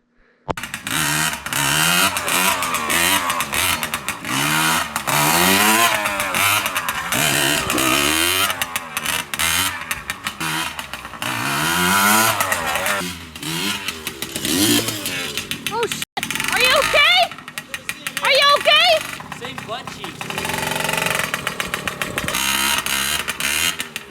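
A small Yamaha PW80 dirt bike engine revs repeatedly to around 7,500–8,000 RPM, its pitch sweeping up and down in a high buzzing whine, with brief mechanical rattles and a voice partway through.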